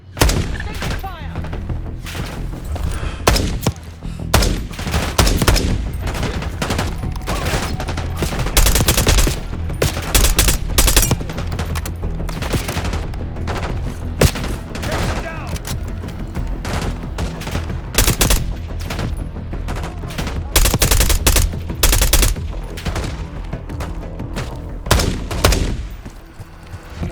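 Sustained squad gunfire in Call of Duty Black Ops 6 during an assault near a SAM site: dense, loud bursts of automatic rifle fire and heavy thumps, continuous for nearly the whole stretch, with voices calling out beneath the shooting.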